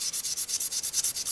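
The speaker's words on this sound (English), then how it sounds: "I'll hit this area with a tack rag to get these" Tack rag wiped in quick back-and-forth strokes over a sanded body panel of a 1969 Camaro or 1971 Mustang, a close, steady rhythmic rubbing of about ten even swipes with no talk.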